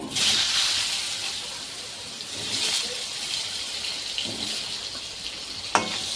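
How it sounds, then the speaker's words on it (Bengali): Potatoes frying in leftover fish-frying oil for a rohu fish curry, a continuous soft sizzle and crackle with one sharp tap near the end, no talk over it. "মাছ ভাজার তেলে আমি আলুগুলো ভেজে নেব।"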